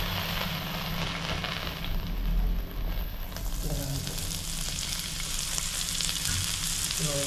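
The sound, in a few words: garlic frying in hot oil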